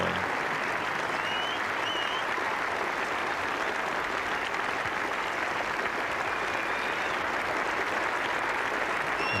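A Test match cricket crowd at the 1985 Ashes applauds a double century, steady dense clapping from a large crowd, loud and sustained throughout with no voices on top.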